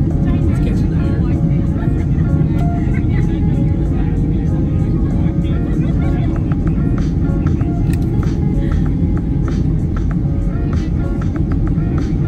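A small airplane with its flaps down comes in to land on a landing strip in Honduras, its steady engine drone loud and continuous throughout.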